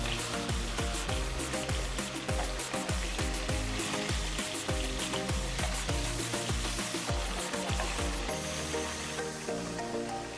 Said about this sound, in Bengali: এখন আমি অন্য পিঠটা ভেজে নেব।